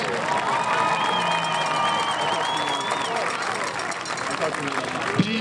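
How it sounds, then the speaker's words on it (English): A crowd cheers and claps in a busy, sustained roar for band seniors at a high school football game. A few whoops and voices rise above the steady applause. "please give a warm round of applause for the band seniors from the class of 2026."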